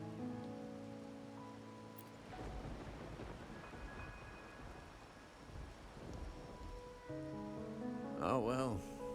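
Steady rain pours in a video game, with a low rumble of thunder partway through and a brief wavering tonal sound near the end; no talk over it.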